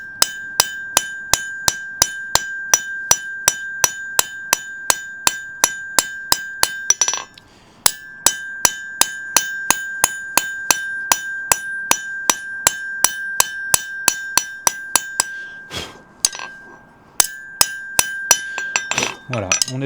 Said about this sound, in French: je venais taper avec le coin ici de mon marteau pour venir ramener de la matière et la tirer